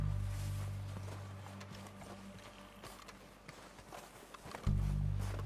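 Horse hooves clip-clop in Red Dead Redemption 2, a steady run of soft thuds at middle distance over a low rumbling game backdrop, with a heavier thump near the end.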